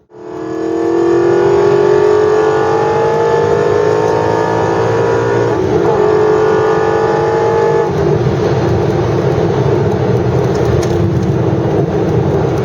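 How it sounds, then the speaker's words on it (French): An Aston Martin V8 Vantage road car's V8 engine drones loudly and steadily as it accelerates on the road, its pitch rising through the gears with a brief dip around a shift, then holding a harsh, sustained roar. "on est sur un bruit, un feulement vraiment de V8 qui devient rageur par contre passer les 5000 tours et qui est très feutré en deçà"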